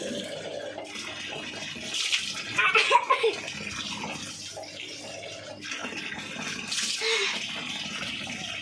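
A child bathing alone splashes water in a steady wash of running and sloshing water, with a louder burst of splashes partway through and another swell near the end.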